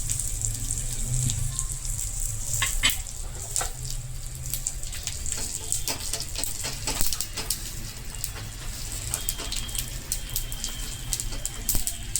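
White sesame seeds crackle and pop in hot oil with green chilli pieces while tempering for khaman dhokla, a dense scatter of sharp, irregular pops over a steady sizzling hiss throughout.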